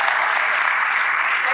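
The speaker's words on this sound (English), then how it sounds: "please give a round of applause and say thank you" A conference audience applauds a Group CEO on stage, a dense, steady wash of many hands clapping at close range, loud and unbroken throughout.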